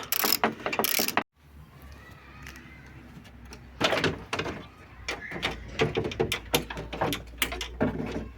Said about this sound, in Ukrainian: 12-гранна головка на 8, М8. І ці два болтики благополучно відкручуються